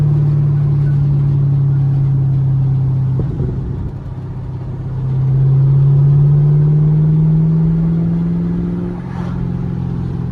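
A Camaro SS with an LS3 V8 running open longtube headers idles loud and close with a deep, steady rumble, dipping briefly before swelling into a fuller, rising drone and settling again, with no talking.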